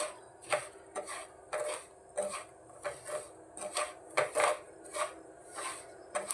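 Semolina roasting in a pan with a spoon each of oil and ghee, stirred with repeated scraping and rasping strokes in a steady rhythm, close and fairly quiet, with no talk.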